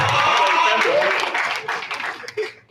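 Gala night audience at a convention gives a burst of applause that thins out and fades within a couple of seconds, with voices mixed in.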